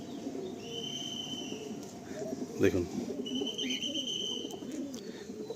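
A Malwai pigeon coos softly amid steady background noise, with a brief louder burst near the middle, while someone talks over it.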